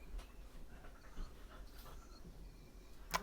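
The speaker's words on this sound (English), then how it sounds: "there's my dogs there" Several dogs pant softly nearby in a quiet room, with faint steady breathing and a brief sharp sound near the end. The whole clip is very low in level.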